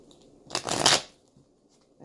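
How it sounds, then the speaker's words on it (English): Tarot cards shuffled by hand in a quick papery riffle, one loud burst lasting about half a second and then quiet. "I guess it's time to stop shuffling."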